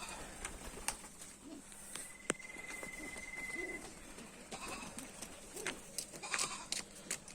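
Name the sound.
pigeons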